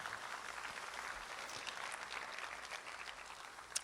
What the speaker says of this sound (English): let's give that group a round of applause as well